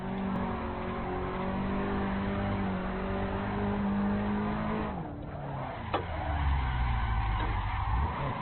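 Drift car in the Assetto Corsa racing game holds a loud, sustained high engine rev with steady harmonic whine, drops off sharply mid-way, then climbs again with a rising rev and tire noise underneath, no voices.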